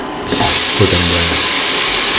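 Tomato pieces sautéing in a pan for a cheese and scrambled egg dish, a steady close frying sizzle and hiss that swells after a soft start and holds loud throughout.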